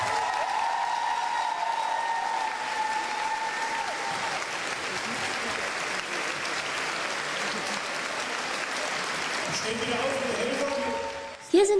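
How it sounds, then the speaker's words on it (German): A crowd at the AnimagiC 2006 anime convention in Bonn applauds volunteer helpers called onto the stage, a steady wash of clapping lasting throughout, with a voice and music briefly audible over it near the end. "bitten wir mit einem großen Applaus alle unsere Helfer auf der Bühne"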